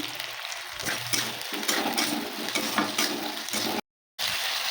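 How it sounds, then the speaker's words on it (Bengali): Spices, white mustard paste, ginger-cumin-chilli paste and chopped tomato sizzle in hot oil while being stirred for a Bengali fish curry, a steady close crackle with a brief dropout near the end. "ভালো করে কষিয়ে নেব।"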